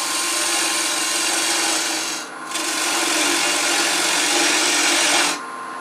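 Steady broadband scraping of a turning tool cutting a reverse-chucked wooden bowl on a lathe, with 3/8 inch bar stock taking very small cuts, loud and continuous apart from one brief pause midway before stopping near the end.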